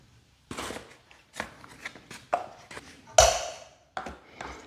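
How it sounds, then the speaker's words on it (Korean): A whisk mixes olive oil and bread flour in a bowl for focaccia dough, making irregular close taps, clinks and scrapes with short pauses between strokes. "휘스크로 잘 섞어줍니다."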